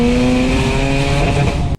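A turbocharged Mazda RX-8 rotary with a Tomei titanium exhaust holds a loud, close, raspy high-rev drone, then cuts off abruptly.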